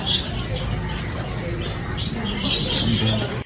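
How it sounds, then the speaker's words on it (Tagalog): Many birds chirp and call outdoors on a drizzly day, bright twittering scattered over a steady background rumble and murmur of voices throughout. "ang daming ibon dito sa amin, no?"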